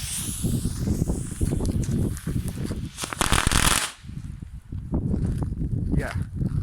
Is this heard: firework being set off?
yes